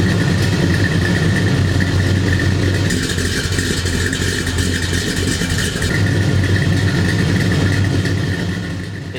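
A 1969 Chevy Chevelle Super Sport with a Holley carburetor idles at a steady, smooth rumble, loud and close, holding an even low throb before easing off slightly at the end.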